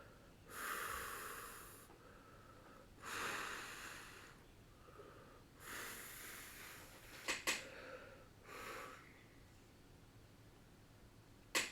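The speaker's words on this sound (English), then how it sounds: "let's take a few deep breaths" A person takes several slow, deep breaths close to the mic, each long airy inhale or exhale separated by pauses, ending with a few sharper sniffs and clicks.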